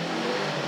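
A motorbike with a loud, rough aftermarket exhaust roars past in a brief, steady blast of engine noise, close and loud with no talk.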